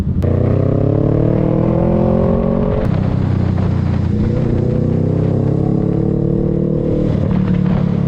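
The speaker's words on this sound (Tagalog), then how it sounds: "usually nakikita nyo ako lagi naman sport bike, naked bike ngayon naka cruiser naman tayo" A cruiser motorcycle's engine drones steadily while being ridden, loud and close, with a rising rev and a shift around the third second before the engine note settles and climbs again.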